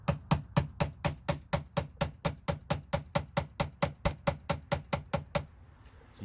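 A shim is tapped into a car battery terminal with about twenty-two sharp, evenly spaced hammer taps in a steady rhythm, close and fairly loud, then quiet.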